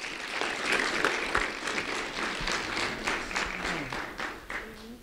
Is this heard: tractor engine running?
no